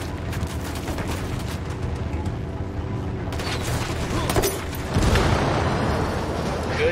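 Dense, sustained gunfire and booming explosions from a Ghost Recon Wildlands firefight against a helicopter, with a continuous rumble of shots and blasts that grows louder toward the end.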